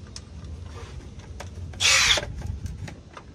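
A power tool tightens side step bolts at the pinch welds on a Ford Transit van, giving one loud, short whirring burst of under half a second amid quieter background clatter.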